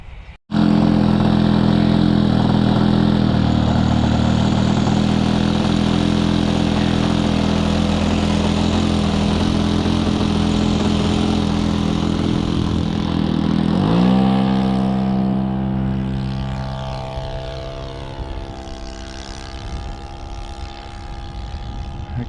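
Engine of an H-King PC6 Porter balsa radio-controlled plane runs loud and close with a steady buzzing drone. Its pitch shifts partway through as the throttle changes, and no one talks over it.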